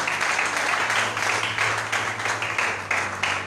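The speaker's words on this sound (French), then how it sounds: "Acclamons le Seigneur." A church congregation applauds in a steady, full wash of clapping that continues throughout at close range, with no voices standing out.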